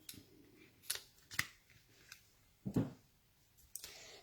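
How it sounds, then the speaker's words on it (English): Double-sided tape being pressed down during card making: a few sharp crackly clicks and tearing snaps scattered across a quiet room, with one louder, fuller thump near the middle. "So I'm going to use a little bit of double-sided tape here."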